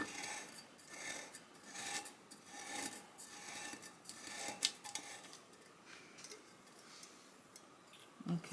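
A blade trims material along the top rim of a tumbler being decorated with clear rhinestones, giving soft, continuous rasping and scraping strokes that stay faint and close throughout.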